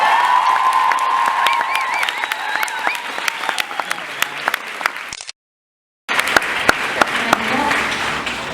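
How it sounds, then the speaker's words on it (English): Audience applause at a Comic Con Copenhagen 2016 panel, steady dense clapping with some cheering and voices over it, breaking off briefly into silence before the clapping resumes. "give her a round of applause"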